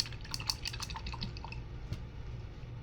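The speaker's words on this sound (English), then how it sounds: "I'm going to wash my brush." A paintbrush is swished and rinsed in a water cup during acrylic painting, a quick series of small close drips and splashes in the first second and a half, then a quieter trickle.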